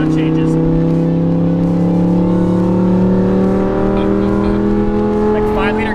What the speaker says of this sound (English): What I'm gonna do is I'm gonna go really slow through the rev range, and you're gonna hear the change.